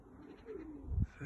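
A pigeon near the Arctic Circle gives a soft, low coo that swells near the end, faint and close against a quiet background.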